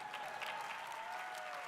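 Audience applause at the 2026 Harvard commencement ceremony, a steady wash of clapping from a large crowd that holds at an even level throughout with no voices over it.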